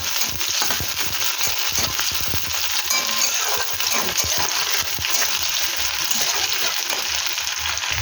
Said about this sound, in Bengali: কড়াইতে তেল দিয়ে পেঁয়াজটা ভেজে নিচ্ছি